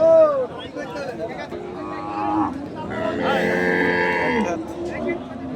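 Cows at a busy cattle market moo in several long, loud, drawn-out calls, one after another close by, over a background of crowd murmur and voices.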